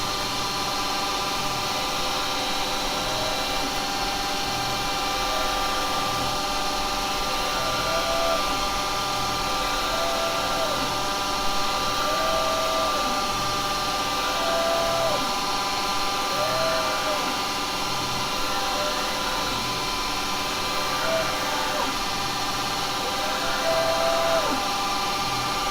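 A steady wood lathe motor whir runs throughout with faint tonal squeals recurring every couple of seconds as a wire rubs against the turning wood to burn lines.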